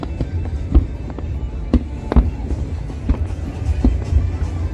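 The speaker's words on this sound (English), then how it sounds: "fireworks" New Year 2022 fireworks over Al Marjan Island burst in a steady series of sharp booms and crackles, some near and loud, others more distant, with faint crowd voices underneath.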